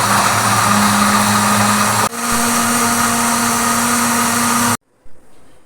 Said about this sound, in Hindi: अब हम इसको करेंगे अच्छे से ग्राइंड